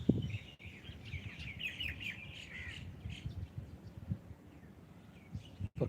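Crows cawing and small birds chirping outdoors in the morning, a fairly steady chorus of calls at moderate distance over a low background rumble, with no talking.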